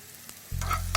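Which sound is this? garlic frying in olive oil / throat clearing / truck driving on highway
garlic frying in olive oil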